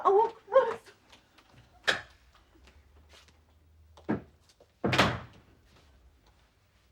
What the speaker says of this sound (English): Well, I'll open the door then.